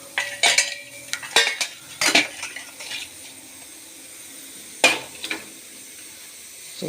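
A spoon clinks and scrapes against a metal pot in several quick bursts while jaggery is stirred into water, with quiet pauses between.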